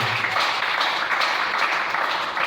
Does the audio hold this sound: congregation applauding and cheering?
yes